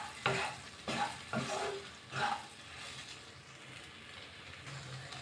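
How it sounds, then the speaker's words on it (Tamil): Soya chunks (meal maker) being stirred and roasted in oil in a pan for gravy, with a few close scraping strokes of the spoon over a soft, steady sizzle. "இப்போ நம்முடைய சோயா சேர்த்துடலாம். நம்ம சோயா ரோஸ்ட் பண்ணி எடுத்துக்கலாம்."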